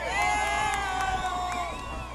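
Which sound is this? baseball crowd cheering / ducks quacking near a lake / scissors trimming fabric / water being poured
baseball crowd cheering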